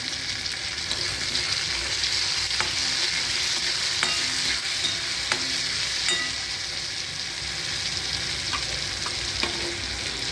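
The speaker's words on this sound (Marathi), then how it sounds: "टोमॅटो तळून घ्यायचा आता आधी." Onion and tomato fry in a pan with a steady, close sizzle, broken by occasional clicks and scrapes of stirring over ten seconds, with no talking.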